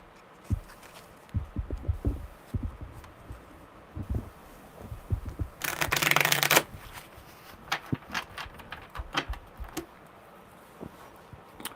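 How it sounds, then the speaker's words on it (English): Cards are shuffled with a soft patter of taps, then a brief, loud riffling burst in the middle, followed by more light tapping. "One more good shuffle."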